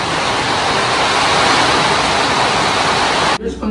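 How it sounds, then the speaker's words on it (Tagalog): Steady broadband hiss of rain falling outside, a dense constant wash that fills the whole stretch before cutting off sharply near the end. "Ayan, umuulan na."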